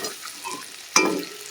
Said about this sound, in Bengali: পেঁয়াজটাকে ভালো করে ভেজে নিই